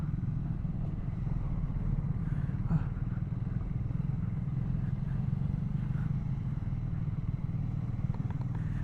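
A Royal Enfield Scrambler 400 XC motorcycle engine runs steadily up close, a constant low rumble with faint clatter carrying through the whole stretch.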